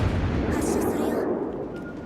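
Heavy warship gun salvo booms in World of Warships: Legends, a loud low rumbling blast with a brighter crack mid-clip, fading out; a voice speaks underneath.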